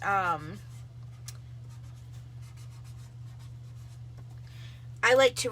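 A pen scratches faintly and steadily as writing goes onto the back of self-adhesive silkscreen stencils, framed by brief bits of talk at the start and end.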